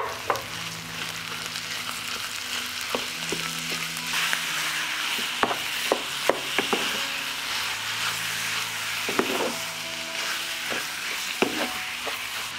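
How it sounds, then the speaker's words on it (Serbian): Minced meat fries in a pan after onions, a steady close sizzle broken by repeated scraping clicks of a utensil stirring, with no one speaking. "Dok se meso prži"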